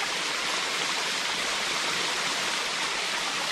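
A five-tier cascading waterfall fed from Alicia Falls in snowy Jefferson County, Kentucky, roars as a steady, loud, unbroken wash of flowing water that fills the whole moment without pause.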